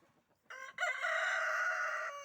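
A rooster in a farmyard gives one loud, drawn-out crow lasting well over a second, close by and alone after a few faint sounds.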